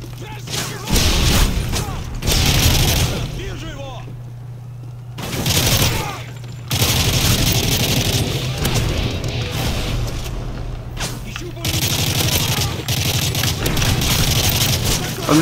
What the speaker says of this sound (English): I'm just shooting at nothing!